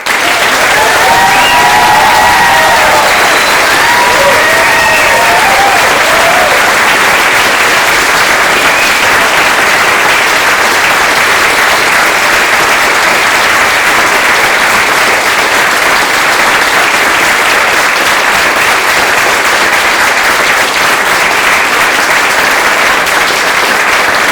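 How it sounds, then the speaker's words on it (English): Loud, sustained applause from a large audience greets the Alice Miller class of 2024 at a graduation ceremony, dense continuous clapping with a few cheers near the start. "please join me in a round of applause for the Alice Miller class of 2024"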